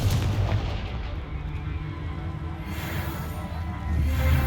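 Confringo blasting spell explosions in the video game Hogwarts Legacy, heavy booming bursts with a sustained rumbling low end, one blast near the start and another swelling at the end.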